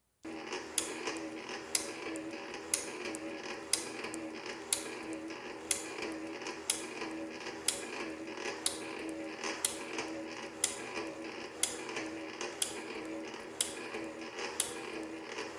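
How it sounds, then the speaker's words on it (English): A metal shaper takes repeated cutting strokes through 360 brass stock, squaring it to outer dimension for a feed water pump body. The strokes land as steady sharp mechanical clacks about every second over a continuous machine whir, with no talk. "I'm going to square up this stock and bring it to outer dimension for the pump body here on the shaper"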